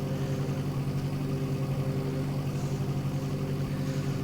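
Aircraft engine at full power in X-Plane 11, losing horsepower to ice on the cowling: a continuous, even, low-pitched drone with a throbbing rumble underneath, loud and unchanging.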